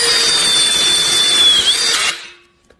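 A cordless electric screwdriver with a strong magnetic-ring bit drives a screw home, a loud close whirring buzz that holds steady, then cuts off sharply near the end, leaving silence and a tiny click.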